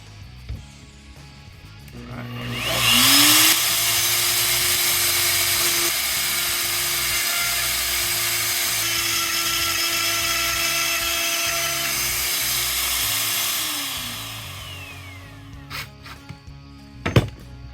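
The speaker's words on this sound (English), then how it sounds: "I got my drill bit in there." A power drill spins up and runs at a steady high whine for about ten seconds while boring through a climbing wall panel with a template, then winds down, followed by a few clicks.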